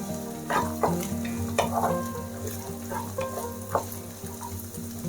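A spoon stirs drumstick leaves into jowar kichidi in a pan, giving repeated scraping strokes over a steady low sizzle, close and moderately loud with no talking.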